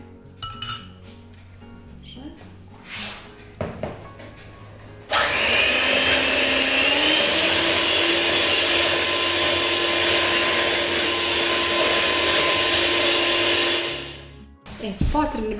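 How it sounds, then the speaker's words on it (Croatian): An electric hand mixer whirs loudly and steadily for about nine seconds while beating four eggs with sugar for a kitchen baklava dessert, preceded by clinks of bowls and utensils. "Ovo ćemo sad malo mučiti mikserom."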